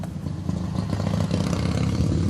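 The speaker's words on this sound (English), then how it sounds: "Old Indian motorcycle, that's pretty tight." An old Indian motorcycle engine running steadily with a low, rumbling idle and mechanical clatter, loud and close, holding a continuous throb without pauses.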